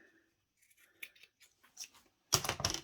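Scissors cutting a chunk out of fabric for a garment placket: a few soft, faint snips and rubs, then two louder, crisp closing cuts up close, with no talk.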